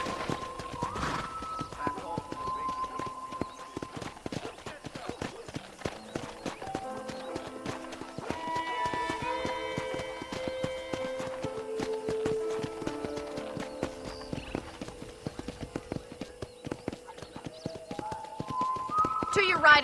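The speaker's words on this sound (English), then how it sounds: "I picked out a fine horse for you." Horse hooves clip-clop at a steady walking rhythm on a dirt path in the Red Dead Redemption video game, continuing throughout while voices talk over them.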